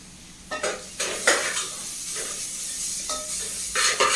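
Masala, turmeric, chilli and coriander powders with pepper being sautéed in a pan for kuzhambu: repeated scraping strokes of a spoon against metal over a steady low sizzle, close and fairly loud, with no talking.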